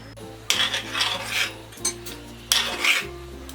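Carrot halwa stirred in a metal pan until dry, a spoon scraping the pan in repeated close strokes with sharp clinks, steady rhythm without talk.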